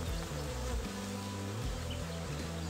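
Honey bees buzz steadily around hives during a swarm transfer, a continuous, moderately close drone with wavering pitch, no talking.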